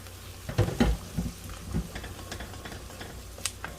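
Onions and garlic stirred in a cooking pan, heard as a few soft scrapes and clacks in the first two seconds, then a quiet, faint sizzle with scattered light ticks.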